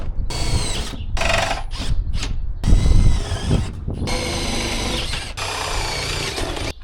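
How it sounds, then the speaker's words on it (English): A power drill bores holes through a campervan roof to mount a solar panel, several bursts of whining drilling with short pauses between, close and loud. "we're going to get on drilling the holes"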